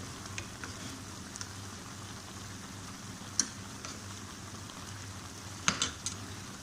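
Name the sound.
onion and ginger garlic paste frying in a pan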